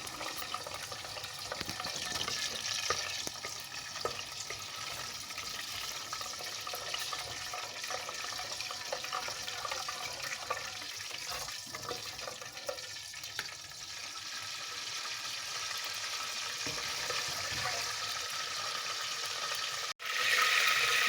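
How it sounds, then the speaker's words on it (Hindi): Almonds roast in hot ghee in a pan, giving a steady, soft sizzle and crackle close by with faint stirring. A brief clatter comes near the end. "अब ये बादाम जो है इसमें मैं डालूँगी, थोड़ा सा इनको रोस्ट करूँगी।"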